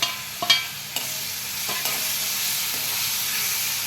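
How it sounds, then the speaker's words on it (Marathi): Sliced bananas soften in hot ghee in a pan for prasad sheera, a soft continuous sizzle with a few sharp spatula taps early on, close and fairly quiet, with no talking. "केळी मऊ होईपर्यंत तुपामध्ये ह्यांना छान असं परतून घ्यायचं आहे"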